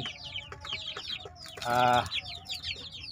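Chickens clucking and chicks peeping in a busy flock, with one louder, drawn-out squawk near the middle; continuous, fairly close.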